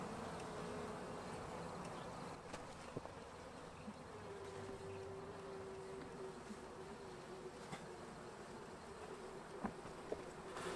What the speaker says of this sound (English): Watch out, bees.